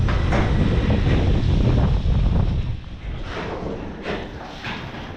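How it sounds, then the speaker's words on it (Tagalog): Loud, steady wind roaring and buffeting the microphone, easing slightly partway through, with no one talking. "Lakas ng hangin oh."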